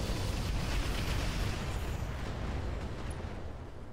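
Heavy weapons fire rumbles through a BattleTech (Roguetech) battle as an enemy turret is destroyed, a dense, loud wash of explosions and booming impacts that fades slightly toward the end.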